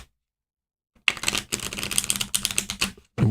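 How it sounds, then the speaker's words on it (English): Tarot cards being shuffled by hand in a series of dense, papery riffling bursts after a second of silence, close and fairly loud, with a brief thump at the end. "let's just shuffle maybe twice more"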